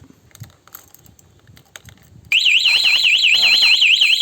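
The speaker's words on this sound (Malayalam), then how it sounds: "ഇതിൽ അലാറം അടിക്കുന്നതായിരിക്കും" Quiet rustling and handling noises, then a Bajaj Pulsar 150 BS6 motorcycle's anti-theft alarm suddenly starts, wailing loudly in a rapid warbling up-and-down electronic pattern that continues steadily to the end.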